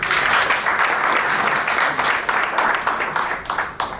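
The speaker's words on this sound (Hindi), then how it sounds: "यस, सही, तालियां सर।" A class claps together in a steady, dense burst of applause that holds for about four seconds, loud and close, tapering slightly toward the end.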